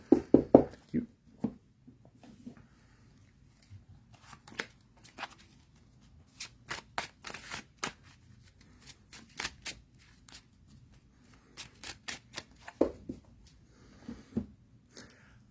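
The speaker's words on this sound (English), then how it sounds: "I'm just going to shuffle my deck" A tarot card deck is shuffled by hand in a quiet room. Quick, crisp riffles and taps arrive in uneven bursts and pauses, close and fairly soft, with faint breathing between them.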